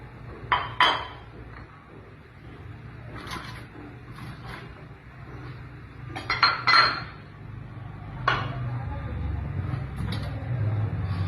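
Vegetables for Puneri-style pav bhaji drop into a pressure cooker holding water, heard as a string of metallic clinks and clatters, some in quick clusters, over a faint low background hum.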